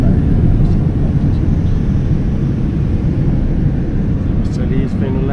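Steady, loud low rumble of an airliner cabin during the slow descent into Nairobi after a flight from China, a continuous engine and airflow drone throughout with faint higher whistles near the end.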